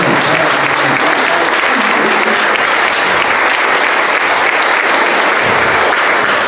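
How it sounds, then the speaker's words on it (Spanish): Loud, dense applause from a church congregation at a Mass, many hands clapping steadily and close for several seconds in a reverberant space, with no speech on top. "Le vamos a dar un gran aplauso."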